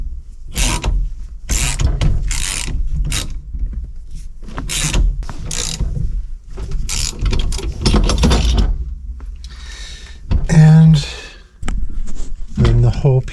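A ratchet tightens a steering column bolt on a car. Bursts of rapid clicking come in short runs with pauses between them, close by, and scrapes and handling noises are mixed in.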